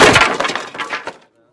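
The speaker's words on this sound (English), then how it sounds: "the sound of the SCW logo crashing to the ground as a carpenter pries it off" A loud crash of breaking, shattering material with scattered clattering debris over about a second, then sudden silence.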